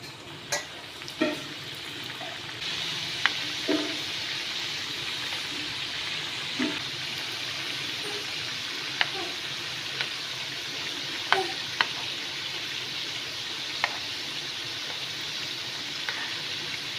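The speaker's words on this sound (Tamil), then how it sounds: "இதை வந்து பொரிச்சு எடுத்துக்கலாம்." Ragi biscuits deep frying in hot oil give a steady, dense sizzle with scattered sharp pops and crackles throughout, close and fairly loud, with no talking.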